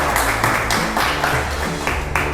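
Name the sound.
audience applause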